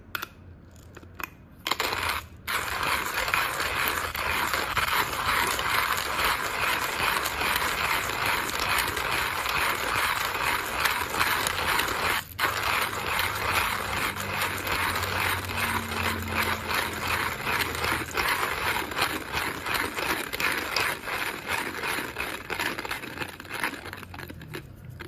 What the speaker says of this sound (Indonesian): saya menggunakan Timor Chestnut menggunakan 22 klik dengan bur yang standar